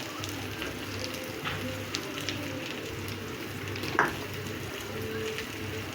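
Rice frying in a pan with onion and grated ginger gives a soft, steady sizzle with light stirring scrapes and one brief clink, close and fairly quiet.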